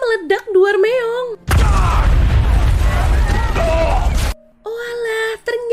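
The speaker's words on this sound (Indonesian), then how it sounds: "Tiba-tiba patungnya meledak" A loud, rumbling explosion of a statue bursts out and roars for about three seconds, with a voice talking just before and after.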